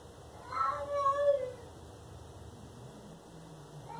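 A cat gives one drawn-out, plaintive meow, fairly close and then fading, followed by quiet background hiss.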